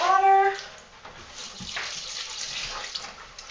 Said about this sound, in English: And I think I'm going to add a tiny bit more water.